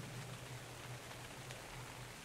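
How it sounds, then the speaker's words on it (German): Steady, faint rain in the video game ARK: Survival Evolved, a soft continuous hiss of drops falling on surfaces with no voices present. "Es regnet gerade."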